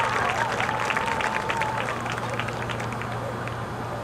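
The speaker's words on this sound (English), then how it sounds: "Give a big round of applause for these guys out here." Audience applause at a national police K9 demonstration held outdoors: a steady patter of clapping from a crowd, fairly faint and distant, under a loud announcer's voice over a low background hum.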